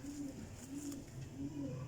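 Pigeons coo softly and repeatedly at close range in a quiet setting, with low rolling calls coming in short rhythmic phrases.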